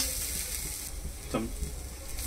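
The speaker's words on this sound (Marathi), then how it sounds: "थोडंसं मंद आचेवर मीडियम हीट वरतीच आपल्याला हे जे खोबरं आहे ते भाजून घ्यायचं आहे।" Grated coconut roasting in a pan over medium heat for modak filling, a steady close hiss with occasional stirring scrapes, no speech.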